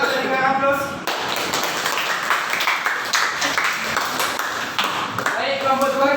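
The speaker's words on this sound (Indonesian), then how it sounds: "Coba berikan aplaus." A class applauds group 1 after a school physical education presentation, with a dense burst of clapping from many hands lasting several seconds and a voice speaking briefly at the start and end.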